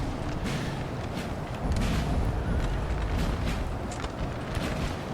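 Napoleonic artillery fire rumbles across a Napoleon Total War battle at Eylau, 1807, a steady dense wall of distant cannon booms and musketry with no clear single shot standing out.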